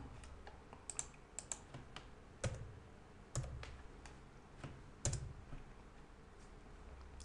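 Soft, quiet clicks of code being typed on a computer keyboard, arriving in irregular bursts with a few heavier key strikes between the pauses.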